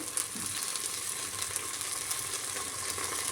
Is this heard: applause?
no